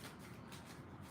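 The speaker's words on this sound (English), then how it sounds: "So we draw 5 cards from this deck, which I have shuffled a little, but I'll shuffle some more." Short, soft riffle of a deck of cards being shuffled, faint and close with no voices over it.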